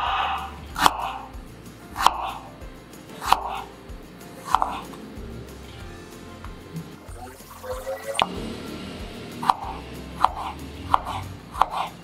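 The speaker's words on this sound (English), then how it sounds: "Two slices of ginger. Thinly sliced." A knife cuts thin slices of ginger on a cutting board, each chop a sharp, close thud landing at a steady, unhurried rhythm, with a brief pause partway before the slicing resumes.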